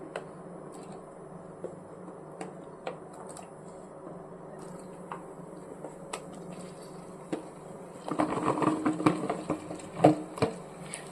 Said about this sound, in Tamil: வெண்டைக்காய்களை வந்து எண்ணெயில் நல்லா வதக்கி எடுத்துக்கணும்